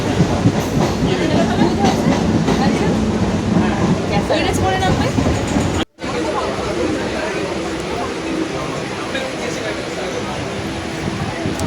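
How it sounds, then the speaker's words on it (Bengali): A passenger train runs along the rails with a steady rumble and rhythmic clatter of the carriages, loud and close throughout, broken by a brief silent cut midway. "ট্রেন তো এখনো খালি যাচ্ছে"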